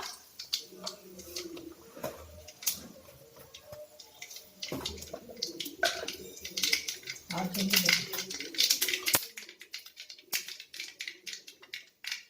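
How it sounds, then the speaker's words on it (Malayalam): Quick irregular pops and crackles as mustard seeds splutter in hot oil in a pan, bursts of sharp snaps rising and fading, with a voice talking over them. "കടുക് പൊട്ടിയതിന് ശേഷം"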